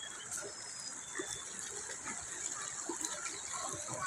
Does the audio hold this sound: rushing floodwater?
yes